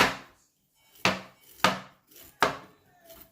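Cassava being chopped with a knife on a cutting board for a pork cassava dish, four or five distinct, fairly loud thuds spaced unevenly, close by with no talking.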